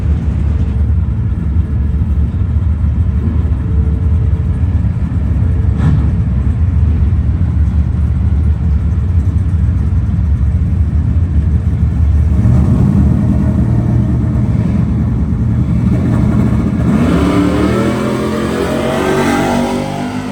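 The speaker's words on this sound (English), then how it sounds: "we got the white truck with the nitrous and a little S10" Race trucks at a truck fest at Xtreme Raceway Park, one a white truck running nitrous alongside a small S10, heard as loud continuous engine roar that rises into revving acceleration toward the end.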